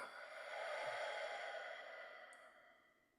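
A single long, slow breath out during a breathing exercise, a soft airy whoosh that swells and fades over a few seconds, close but quiet.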